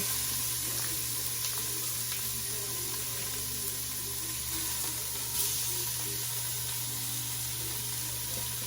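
Meat sizzles in a hot Instant Pot, a constant close crackle and hiss with occasional small pops, steady throughout with no talk.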